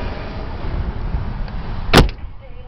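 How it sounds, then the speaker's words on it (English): The trunk of a 2012 Ford Fusion is opened over a steady engine idle, with one short, loud latch release and thunk near the end followed by quieter mechanical settling, close by and with no voices. "I can pop the trunk with my key like I just did. Let me open it up here for you."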